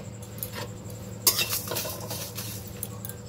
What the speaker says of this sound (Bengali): আমরা এটাকে একটু শুকনো খোলায় নেড়ে নেব।